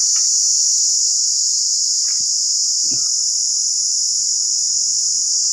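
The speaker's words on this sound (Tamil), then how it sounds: "இந்த வண்டோட பேர் என்னன்னா சில்லு வண்டுங்க சில்லு வண்டு" A sillu vandu, a cicada-like insect, buzzes from a tamarind tree in a loud, steady, high shrill drone, with a few faint bird chirps and knocks beneath and no talk.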